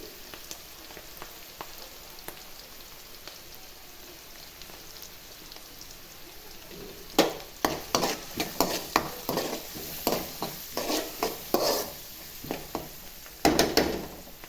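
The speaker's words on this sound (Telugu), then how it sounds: "ఇప్పుడైతే ఉల్లిగడ్డలు ఫ్రై అయిపోయాయండి" Onions with turmeric sizzle quietly in a pan, a soft steady crackle at first, then louder stirring scrapes and bursts of spitting fry noise come in the second half.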